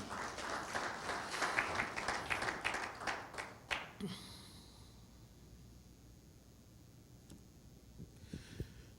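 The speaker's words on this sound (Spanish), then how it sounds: "Dele un aplauso al Señor en esta mañana" Congregation applause during a church service, dense clapping for about four seconds, then tapering off to scattered claps and near quiet.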